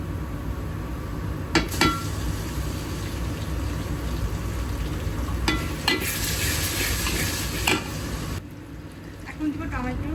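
Ginger garlic paste frying in hot oil with whole spices such as bay leaf, cinnamon, cardamom, star anise and cloves for a chicken curry, a steady sizzle with intermittent spoon clinks and stirring scrapes, voices talking faintly underneath.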